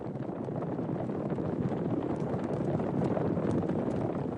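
A horse gallops in Abel Gance's silent epic Napoleon, in a Corsica chase with a compressed-air camera strapped to the saddle. Continuous close hoofbeats blur into a dense rumble with wind-like rushing, no voices.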